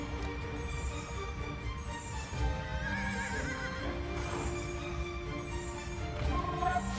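Horse in the game Age of Empires II neighing and whinnying with clip-clop hooves, several wavering calls over a steady background of game ambience, clear and moderately loud.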